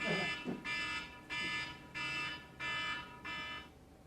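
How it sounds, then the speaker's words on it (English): An alarm goes off at four o'clock, sounding six loud, evenly spaced buzzing beeps with short gaps between them. A brief voice is heard at the very start. "Oh, there's your alarm, Anna."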